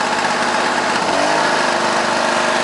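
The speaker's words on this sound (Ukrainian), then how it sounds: "обороти двигуна змінилися трішки при включенні навантаження" Portable electric generator engine running under an electrical load, a loud, steady buzzing drone close to the microphone that holds even throughout, with a slight shift in pitch partway through.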